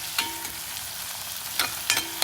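Masala sautéing in an iron tawa pan, a close, steady sizzle broken by a few sharp scraping stirs.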